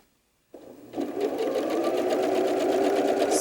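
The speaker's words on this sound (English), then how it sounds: "Sew all the way to the end" A sewing machine stitches quilt block pieces together, starting abruptly from silence, then running steadily with a fast even rattle, close and loud.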